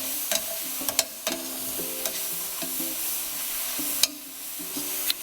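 Food seared in bacon grease is stirred in a pan, with scraping utensil clicks and knocks over a steady sizzle of frying, close-up and without talk.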